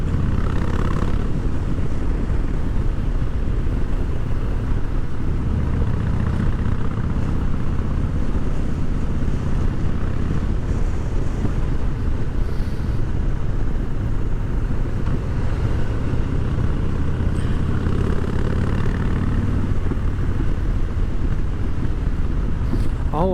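A Harley-Davidson Fat Boy motorcycle ridden on the road and taken around a corner, giving a steady, deep engine rumble under heavy, constant wind buffeting for the whole stretch, with no talking.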